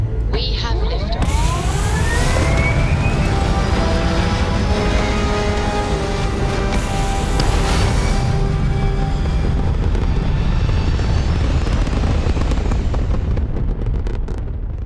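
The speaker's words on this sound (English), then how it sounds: "We have liftoff." A spaceship lifts off in Starfield with a loud, sustained rumbling roar that fills the whole stretch, rising whooshes and tonal engine layers building over it, while a voice speaks briefly.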